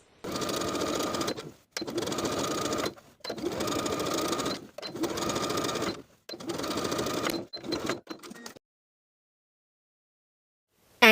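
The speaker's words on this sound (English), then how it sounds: "stitching right underneath the main seam line and catching your seam allowance as you go" A sewing machine stitches a skirt seam just under the main seam line in five steady bursts of running, each a second or so long with short pauses between. A few brief stitches follow, then silence.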